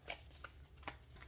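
A tarot deck is riffled quickly, giving a few crisp card snaps in under two seconds. The shuffle is faint and near, with no voice over it.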